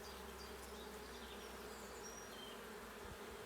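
Honeybees hum in a dense, continuous drone close by during a spring hive inspection, a steady buzz with no talk over it.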